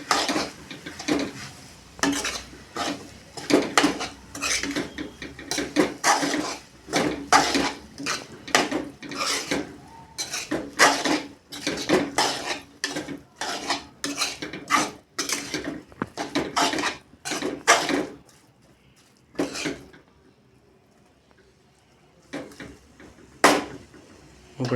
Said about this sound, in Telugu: సాల్ట్ వేసుకుంటున్నా. మొత్తం కలిసేలా తిప్పుకుంటున్నాను.